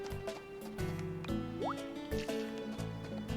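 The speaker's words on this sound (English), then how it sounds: "with one press of the button, one charge, I can water all of my crops" Crops being watered in the video game Harvest Moon: Sunshine Islands, a burst of soft dripping, splashing water over a looping game melody, with a quick rising chime partway through.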